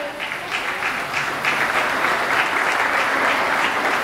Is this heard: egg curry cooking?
no